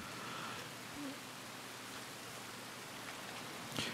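Steady rain falls in an open-world Western game, a soft even hiss with scattered drops and a brief louder patter near the end, no talking over it.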